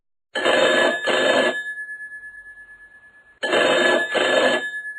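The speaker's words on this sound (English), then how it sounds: "this is when the phone begins to ring" A telephone rings in two double-burst cycles, loud and close, with a steady tone lingering between rings and no voices.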